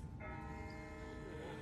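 A distant bell tolls steadily in The Walking Dead video game, its sustained ringing tones hanging over a low ambient rumble for the whole stretch, with no talking.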